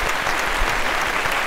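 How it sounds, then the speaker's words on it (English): A studio audience at a children's storytelling show applauds steadily, a dense even wash of clapping close by with no voices over it. "Give yourself a round of applause for being a wonderful audience."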